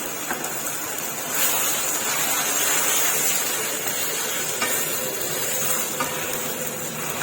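Spaghetti sauce with tomato and mushroom being stir-fried in a pan at home, a steady broadband sizzle with scraping stirs running continuously and fairly loud, no talking.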